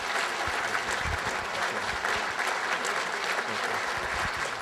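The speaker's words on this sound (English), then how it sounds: "So let's again give them a big round of applause." Sustained applause from a banquet audience honoring volunteers, a steady dense wash of many hands clapping throughout, fairly close and even in loudness.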